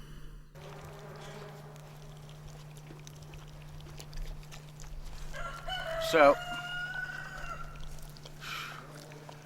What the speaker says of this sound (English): got the rooster over there making noise